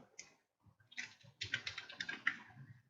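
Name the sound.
typing a leave reason on a computer keyboard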